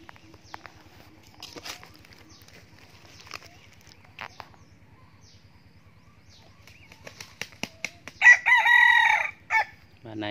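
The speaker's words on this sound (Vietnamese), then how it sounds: "Bạn này hầu như là gáy lúc nào cũng vỗ cánh hết đấy." A young rooster flaps its wings in a quick burst, then crows loudly and up close, after a stretch of faint scratching and footsteps.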